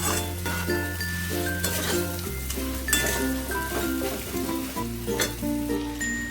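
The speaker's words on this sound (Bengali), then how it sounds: "এবারে আমি চিংড়ি আর আলুগুলোকে দিয়েও একটু বেশ খানিকক্ষণ নাড়াচাড়া করব যাতে চিংড়ি আলুর মধ্যে মশলার ফ্লেভার সমস্ত কিছু মিশে যায়" Prawns and potatoes stirred in a frying pan with spices, a steady sizzle with occasional stirring scrapes running under prominent background music.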